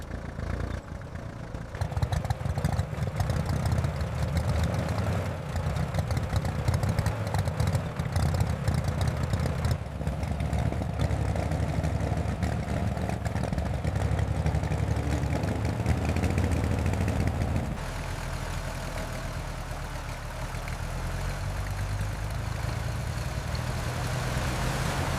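A 1926 Star motor car engine idles steadily after decades unused, a low, even mechanical rumble with a rhythmic chug that holds near and loud for most of the span, then drops to a softer, deeper tone near the end.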